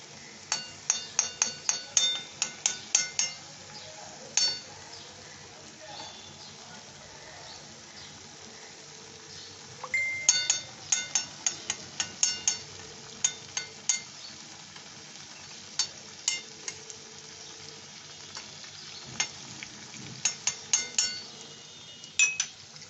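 Ghee stirred into a drying milk mixture in a pan, a spoon scraping and clinking against the metal in quick rhythmic bursts over a soft sizzle, with pauses between rounds of stirring.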